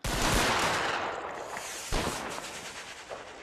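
Reenactors of the 33rd Regiment of Foot fire a rifle volley in an Anglo-Zulu war reenactment, a loud ragged crack of many shots at once, echoing, with another sharper report following shortly after.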